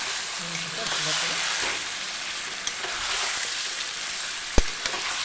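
Chicken and spices sizzle in a pan with water added, giving a steady close hiss with a few sharp clinks of a utensil and a faint voice in the background.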